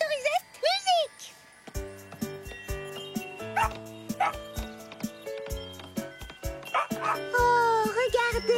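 Cartoon dogs yip and bark among cheerful music in a French animated series, with a speaker talking at the start. The short high barks sound repeatedly over the bouncy tune.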